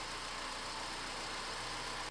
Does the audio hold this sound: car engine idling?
yes